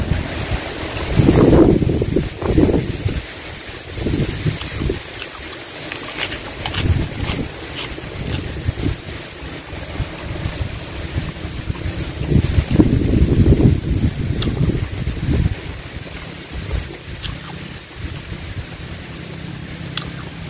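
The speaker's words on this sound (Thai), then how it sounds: "ลมพัดเย็นวีดวีดได้เหมือนเนี่ย" Cool wind sweeps across an open rice field, buffeting the microphone in loud rumbling gusts that rise and fall over a steady background hiss, with no speech.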